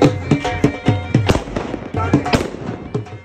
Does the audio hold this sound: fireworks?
yes